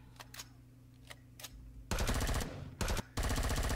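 A sentry turret firing in Empyrion: Galactic Survival, heard as loud, dense bursts of rapid automatic gunfire in three long volleys with brief gaps between them, after a few quiet ticks at the start.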